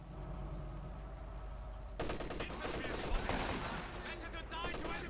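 Rapid bursts of gunfire and sharp shots from sniper rifles and other weapons in a Company of Heroes 2 battle, a quiet lull giving way suddenly to dense, crackling firing with loud impacts.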